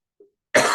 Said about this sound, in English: and I have to cough